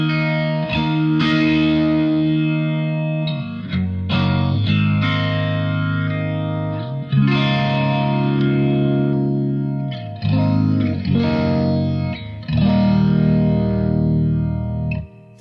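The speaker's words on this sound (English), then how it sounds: "So that's the vibrato." Ringing, jangly electric guitar chords played through a Boss MD-200 modulation pedal set to vibrato, each strum wavering in pitch and sustaining with a shimmering, slightly distorted tone before the next chord.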